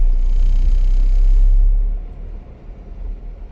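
Car engine running in second gear while driving in traffic, a loud low rumbling drone that eases off and drops quieter partway through.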